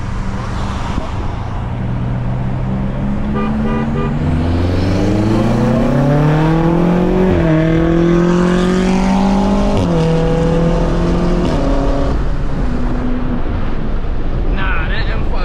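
A BMW M5 Competition accelerates hard through New York City streets, its engine note climbing loud and close through several rising gear pulls with wind noise, then easing off; a voice is heard briefly near the end.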